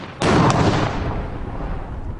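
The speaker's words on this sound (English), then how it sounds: "They create an explosion, but no ignition." A test explosion made by wartime engineers, a sudden loud blast that fades into a long rumbling decay with no voices.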